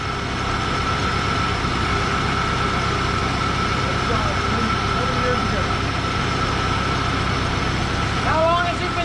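An abandoned 1970 Dodge D-100 pickup, first started in 19 years, idles steadily with a low, even rumble and faint rattling, continuous throughout, with a voice briefly heard near the end.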